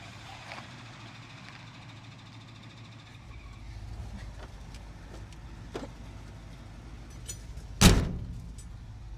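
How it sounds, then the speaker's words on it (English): A 1966 Jeep Gladiator drives down the road, its engine a steady low rumble that swells after a few seconds, with a few knocks and a loud sharp clunk near the end. "It sounds really, really horrible going down the road."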